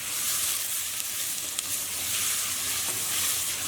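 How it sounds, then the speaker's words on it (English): Beef and onions browning together in a hot pan give off a steady, dense sizzle, close and even throughout with no voices. "After about a minute, we'll add in our beef. And we just want to cook those together until our beef has browned."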